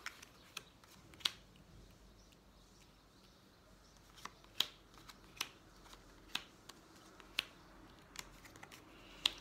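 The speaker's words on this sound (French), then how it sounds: "on va faire un tirage en 9 cartes" Tarot cards are handled before a nine-card spread, giving faint sharp snaps and flicks at irregular intervals against a quiet room, roughly a dozen crisp clicks.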